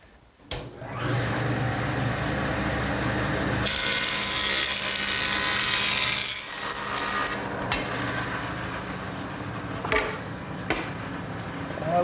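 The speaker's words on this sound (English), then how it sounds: "I'm going to straighten the edges on my joiner." A jointer straightens board edges, its motor and cutter whirring steadily and loudly, with a louder cutting pass in the middle, then the machine winding down with a few sharp knocks.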